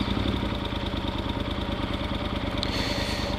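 A Yamaha Super Ténéré motorcycle engine runs steadily at a close, even idle with a low rhythmic throb and light mechanical clatter, heard alone with no talk.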